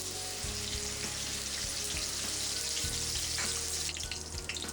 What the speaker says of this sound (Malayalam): തേങ്ങ നന്നായി വറുത്ത് കൊടുക്കുക